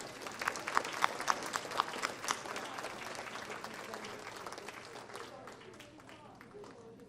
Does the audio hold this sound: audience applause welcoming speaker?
yes